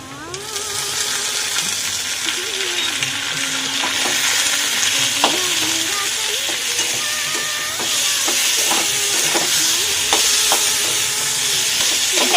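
Boiled potatoes topped with onion and dried chili fry in a pan, giving a loud, steady sizzle broken by repeated scraping strokes of a stirring spatula, close and with no talking.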